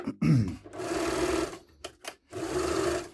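A Veritas sewing machine under repair runs with its needle moving, a loud steady mechanical whir in two bursts separated by a brief stop and a couple of short clicks.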